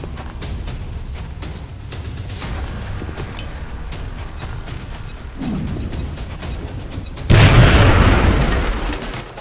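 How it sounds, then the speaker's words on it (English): A grenade bursts with a loud, full-bodied explosion during XCOM: Enemy Within combat. Its roar swells and decays over a couple of seconds after a stretch of quieter battle ambience and scattered clicks. "Now toss your grenade at the enemy in front of you"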